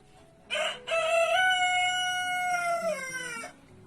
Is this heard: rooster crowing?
yes